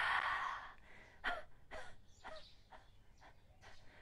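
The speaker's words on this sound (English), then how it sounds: "Exhale, just one long exhale, followed by lots of little exhales as we kind of rinse out the lungs" A long breathy exhale during a breathing exercise, followed by a series of short, sharp little exhales in an uneven rhythm, close and soft, with no talking.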